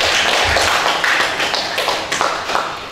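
A classroom of students bursts into brisk, ragged hand clapping that stays loud and fairly close, then thins out toward the end.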